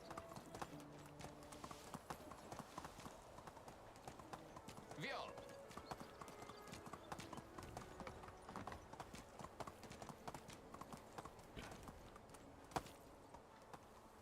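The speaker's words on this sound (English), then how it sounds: "All right, Wagoner. Giddy up" Horse hooves clip-clop steadily as a wagon is pulled along in the medieval video game Medieval Dynasty, an even walking rhythm with faint talk over it.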